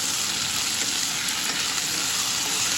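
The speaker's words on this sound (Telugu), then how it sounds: "కలిపేసి 2 minutes నుంచి పొటాటో ఫ్రై అవుతుంది." Potatoes fry with ginger garlic paste for a dosa potato curry, giving a dense, steady hiss of sizzling oil that carries on evenly without pause.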